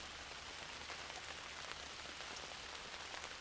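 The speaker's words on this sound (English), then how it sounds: "It's raining." Rain falling in a garden and drumming on a large garden umbrella overhead, a steady soft patter of many close drops with no talk.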